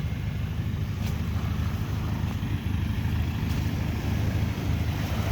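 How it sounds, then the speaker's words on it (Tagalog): Low, steady engine drone with a rumbling, chugging texture from a small fishing boat's diesel motor running nearby under light wind noise, with a couple of faint clicks. "makina niya na diesel"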